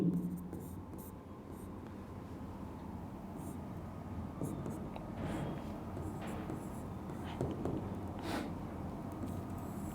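Faint scratching of writing on a board, with soft strokes and taps at close range over a quiet room background.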